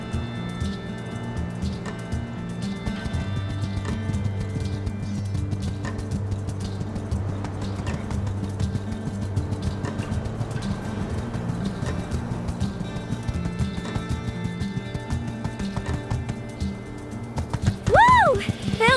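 Horse hooves clip-clop at a steady running pace while riding in the farming life video game My Time at Sandrock, over a continuous background music bed, with a short whinny-like sweep near the end.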